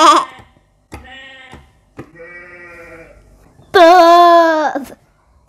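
A Gear4Music JDP-1 junior digital piano plays its sheep sample as a series of four wavering bleats, the last loudest and longest, close and clear with brief pauses between them.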